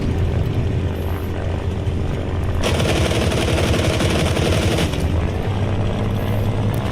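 Aircraft machine guns fire a sustained rattling burst over the steady drone of a propeller plane's engine in the combat flight game Aces of Thunder, loud and close during an attack run on a bomber.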